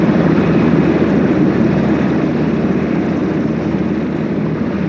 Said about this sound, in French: Le Sikorsky Super Stallion, le plus gros hélicoptère de la guerre du Golfe